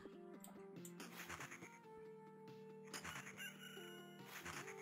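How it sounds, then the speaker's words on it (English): A rooster crows in the video game Loop Hero, several stretched, wavering calls set over steady game music and effects, loud and close with no talking. "Cockerel."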